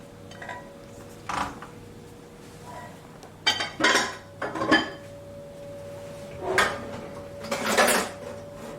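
A spoon clinks against a bowl as melted chocolate and hot cream are stirred together, giving a few scattered taps and scrapes that come in short bursts with quiet gaps between them.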